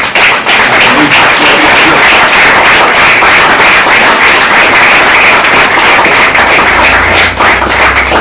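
A large church congregation claps continuously and loudly, a dense, steady wash of applause that fills the whole stretch without pause.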